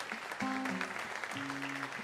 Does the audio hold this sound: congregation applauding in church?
yes